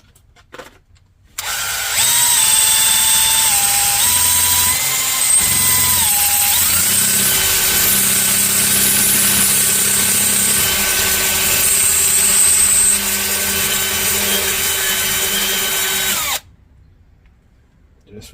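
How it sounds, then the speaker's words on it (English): A reamer driven through an engine valve guide gives a loud, close, continuous motorized whir with shifting pitch, running steadily for about fifteen seconds before stopping abruptly. "You just get the reamer started in the valve guide."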